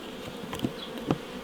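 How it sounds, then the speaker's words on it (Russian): Honeybees in a nucleus hive that have killed their mated queen give off a steady, close, low buzz with a few brief louder swells and no voices. "Задавили хорошую плодную маточку и сидят, жужжат."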